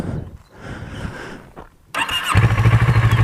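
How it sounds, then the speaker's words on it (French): Quiet rumbling gives way to a motorcycle engine catching and running, its exhaust throbbing in a steady, close pulsing idle. "je vous ai pas fait écouter le pot quand même"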